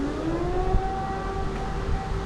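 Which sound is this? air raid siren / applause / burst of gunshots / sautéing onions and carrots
air raid siren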